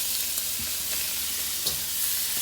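Shrimp patted dry and seasoned with salt, pepper and chili flake sizzle in hot oil in a pan, a steady close hiss with a few small pops and scrapes, with no talking.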